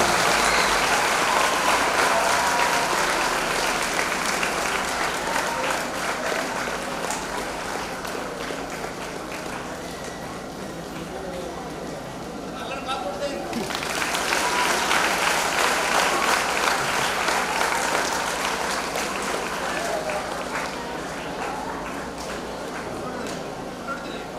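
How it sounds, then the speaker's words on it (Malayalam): A crowd at a school welcoming ceremony for new students applauds, sustained loud clapping that dips midway and then swells again before easing off. "എല്ലാവരും നിറഞ്ഞ കൈയടികൾ അവർക്ക് നൽകേണ്ടതാണ്"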